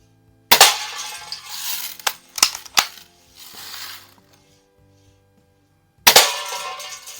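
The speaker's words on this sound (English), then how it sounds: "we're going to take a bunch of shots at this can and see how much damage we can do." A 1946 Daisy Model 155 lever-action BB gun fires steel BBs at a can: a sharp crack near the start, a few smaller clicks and metallic ticks of cocking, then another loud shot near the end.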